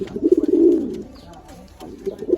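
A pigeon, one of a pair kept for breeding, gives a close, throaty rolling coo in the first second, then a quieter stretch with a brief softer coo at the end.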